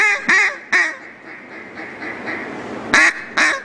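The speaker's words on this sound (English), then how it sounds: "Look at the ducks." Ducks quack in a few loud, close bursts: a pair of calls near the start, a quieter stretch of faint background quacking, then two more strong quacks at the end.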